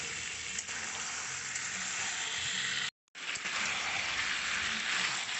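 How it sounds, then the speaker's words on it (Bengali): Fried potatoes and chicken are sautéed in a pan, giving a dense, steady hiss of sizzling oil with a brief silent break midway, close and moderately loud, without speech. "ভেজে রাখা আলুটা দিয়ে ভালো করে চিকেনের সঙ্গে কষে নেবো।"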